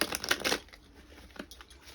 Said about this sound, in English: Shuffle up and get one of these